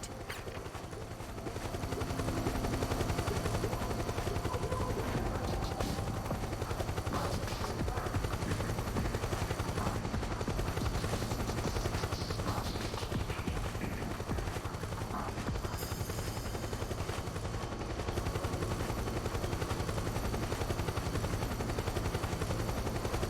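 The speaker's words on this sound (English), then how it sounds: "Normally I'd blow that helicopter out of the sky" A helicopter in the video game Metal Gear Solid 4 drones steadily with a dense, loud rotor roar mixed with rattling gunfire and battle noise throughout.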